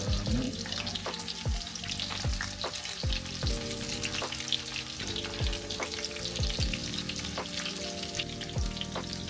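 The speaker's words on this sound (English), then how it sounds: "cooking these for 3 to 4 minutes on each side until the panko is golden brown and crispy" Panko-coated tofu cutlets shallow-fry in hot oil, a dense, loud and continuous crackling sizzle heard up close and alone.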